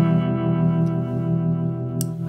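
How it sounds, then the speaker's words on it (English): A Chase Bliss guitar pedal in harmonic mode shapes a held, distorted guitar chord into a smooth, shimmering sustained tone, steady and close, with a brief bright click near the end. "Harmonic sounds like this."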